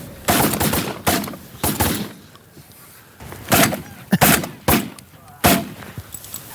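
Shotguns fire at snow geese during a spring hunt, a ragged volley of sharp loud blasts in quick succession, several overlapping, with brief pauses between bursts and voices nearby.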